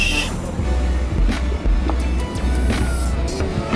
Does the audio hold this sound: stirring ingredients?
no